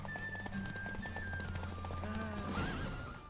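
A horse in The Witcher 3 gives a loud, drawn-out neigh over steady galloping hoofbeats, with game music or ambience underneath, heard close and without speech.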